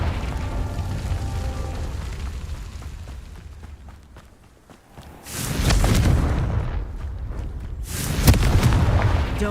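A Confringo fire spell goes off in Hogwarts Legacy, a loud booming explosive burst with a roaring rumble after a brief lull, followed by a second heavy blast close by.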